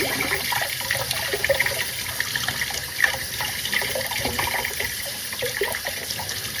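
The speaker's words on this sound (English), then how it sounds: "put a little bit of soap on it. And then rinse it" Spoons being rinsed under a running kitchen tap, a steady close stream of splashing water with faint clinks of metal underneath, continuous throughout.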